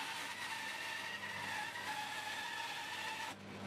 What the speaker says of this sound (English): And now I'll cut out to those lines on the bandsaw.